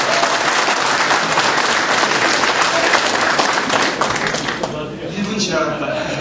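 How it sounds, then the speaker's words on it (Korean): Loud, dense applause from an audience at a political party rally in Daegu, clapping steadily before it thins slightly toward the end, with a voice faintly underneath. "우리 조정원 씨한테 박수 한번 드립니다"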